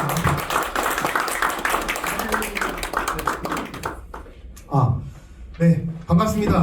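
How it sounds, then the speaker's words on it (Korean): Applause from a lecture audience welcoming the speaker at an MBA course talk on digital assets, a dense patter of clapping for about four seconds, then a voice speaking with a few scattered claps. "다시 한번 힘찬 박수로 맞이해 주시기 바랍니다"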